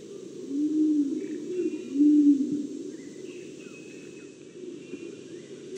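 Andaman wood pigeon in island forest giving low, soft cooing notes, two swelling coos around the first and second seconds over a steady hum of insects and distant birds.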